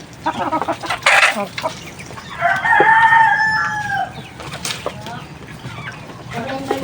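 Farmyard chickens and chicks cluck and call near the listener, with irregular bursts and a longer drawn-out call in the middle, while people talk in the background.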